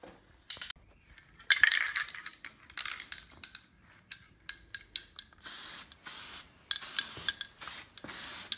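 An aerosol can lightly dusts paint onto raised tyre sidewall lettering, with short soft hisses followed by several longer, louder spray bursts, plus faint rubbing and tapping between them and no talking.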